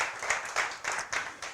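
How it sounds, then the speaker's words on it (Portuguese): Church congregation clapping in a worship service, a sustained round of applause with loose, uneven bursts of hand claps close by. "Aplaude ao Senhor Jesus."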